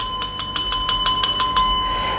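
A bright notification bell effect rings in a quick run of about eight evenly spaced metallic dings, clear and ringing, with a sustained tone underneath and no talking.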